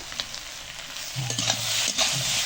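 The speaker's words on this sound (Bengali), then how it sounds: "এবার আলু আর সোয়াবিনগুলো দিয়ে এবার আমি ভালো করে কষিয়ে নেব" Potatoes and soybean chunks are sautéed in hot spiced oil with meat masala for a vegetarian curry, a steady close sizzle broken by a couple of brief scraping stirs of a spoon against the pan.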